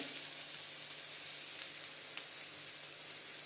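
Bread vada with potato filling frying in a pan, a steady, gentle sizzle with a few soft crackles and pops, close and even, with no talking.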